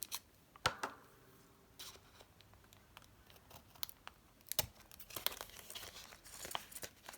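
Scissors snip and paper crinkles faintly as excess paper is trimmed away, a few sharp cuts scattered among quiet rustling handling noises close by.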